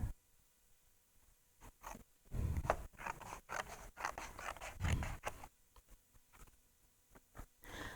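Scissors cut through a piece of paper in a series of close, crisp snips and rustling scrapes, clustered in bursts with quiet pauses between them.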